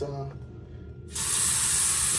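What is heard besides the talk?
shower spraying water at high pressure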